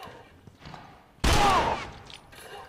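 A single loud gunshot bursts out in The Last of Us video game, sharp and close, fading into a brief tail after quieter background sound.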